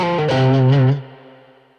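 Electric guitar played through an amp with reverb, a loud sustained distorted chord that cuts off and leaves a reverb tail fading away, with no talk.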